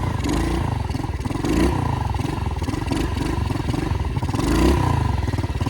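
A pitbike-style dirt bike engine revs loud and close through the whole stretch, its pitch rising and falling in a rhythmic pulse as it holds a circle wheelie, with a couple of sharper surges along the way.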